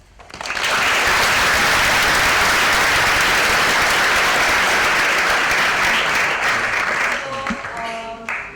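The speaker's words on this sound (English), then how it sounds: "I think we should give them a round of applause." A theatre audience at Prithvi Theatre breaks into loud applause, swelling quickly and holding a dense, even roar of clapping before a voice begins speaking as it fades.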